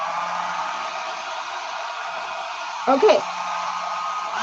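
A hair dryer on its low setting blows steadily on poured paint, a constant airy whoosh, while a voice briefly speaks over it partway through.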